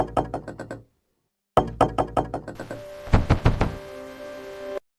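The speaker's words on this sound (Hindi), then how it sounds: "अभी थोड़ी देर ही गुजरी थी कि घर का दरवाजा जोर जोर से बजने लगा।" Loud knocking on a house door comes in several bursts of quick, heavy raps, separated by short pauses.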